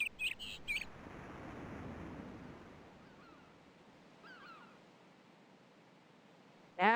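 Bird chirps from King's Quest IV: a few short, faint tweets in the middle, heard alone over a soft wash of surf-like ambience, with sharper bright sounds at the very beginning and end.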